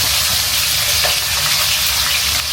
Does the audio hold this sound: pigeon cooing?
no